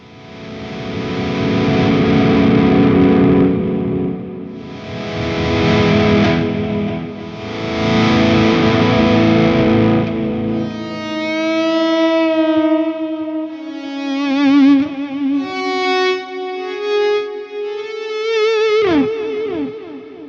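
Slow electric guitar swells through an Axe-Fx III Mesa Triple Crown amp preset fade in and out, washed in delay and reverb, giving way to sustained echoing notes that shimmer and trail off.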